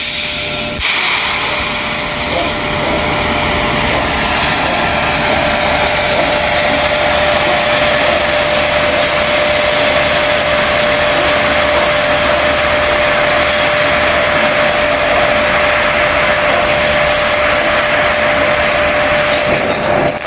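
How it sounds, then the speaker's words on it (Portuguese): TIG torch welding steel at a raised current, a steady loud broadband hiss and crackle of the arc running continuously with a constant high whine, close and uninterrupted with no talk. "Eu vou soldar com uma corrente um pouco mais alta para vocês verem o que ocorre aqui"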